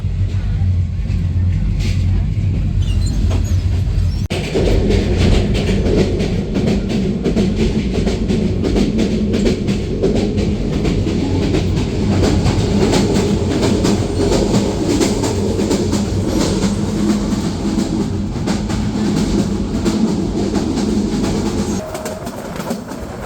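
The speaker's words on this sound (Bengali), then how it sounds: "মিটার গেজ ট্রেনের ট্র্যাকের সাউন্ড যতটা না সুন্দর" A meter-gauge Burimari Express train runs on its tracks from Dhaka to Lalmonirhat, producing a loud, continuous close rumble with rhythmic clickety-clack from the wheels that holds steady throughout and eases slightly at the end.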